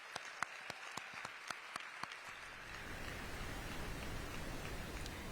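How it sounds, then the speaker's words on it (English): A few sharp separate claps open, then a broad even wash of audience applause builds for arts award nominees at a mayor's awards ceremony, heard faint and distant. "Can we give every nominee a round of applause?"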